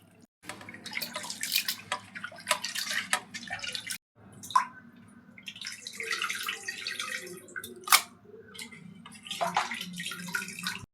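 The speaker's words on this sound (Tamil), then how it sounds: "தண்ணி ஊற்றி நல்லா அலசி எடுத்துக்கணும்." Goat intestines rinsed under running water for a village-style curry, with splashing, dripping and sloshing in uneven bursts, separated by short breaks.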